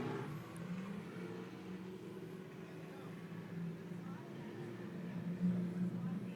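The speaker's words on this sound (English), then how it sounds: "So there's your 9 cars to fire us away." A field of nine street stock race cars at a dirt track idle and rev together at a distance, a steady low engine drone swelling toward the start, under a commentator talking.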